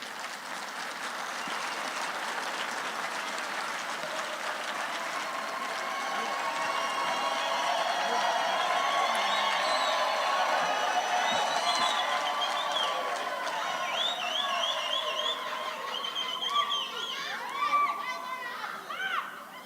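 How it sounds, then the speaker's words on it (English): Large audience at a Unisa university graduation ceremony applauding the graduates: broad sustained clapping swelling mid-way, with cheering, whoops and crowd chatter mixed in throughout. "please stand up and give them a round of applause"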